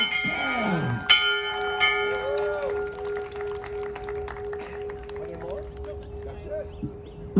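Graduating seniors of the Class of 2023 ring a school bell: a sharp metallic strike that rings out and sustains a long tone, with a crowd cheering and voices in the background.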